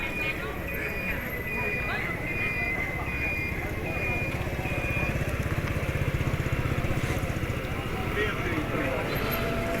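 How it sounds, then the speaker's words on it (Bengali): A motorcycle passes on a busy highway with other traffic, a steady rumbling engine drone that swells as the bike nears, heard under continuous talking. "এই যে বাইক চলে আসছে"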